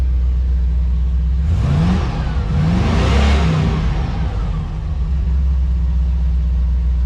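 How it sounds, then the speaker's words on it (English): An FMC XR-311 Humvee prototype engine, recently restored and running an automatic transmission, revs up briefly, then the throttle eases off and it settles into a steady, rumbling idle close by. "just slowly let off the throttle, and then it'll idle good"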